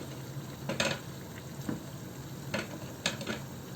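Potatoes and cauliflower get stirred in a sizzling pan of hot oil, with a steady fry hiss broken by a few sharp scraping strokes of a spoon against the pan at irregular intervals. No one speaks.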